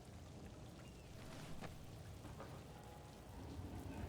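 Steady in-game rain in Dragon Age: The Veilguard, a faint, continuous hiss of falling drops with occasional soft splashes and low rumbles beneath, and no voices.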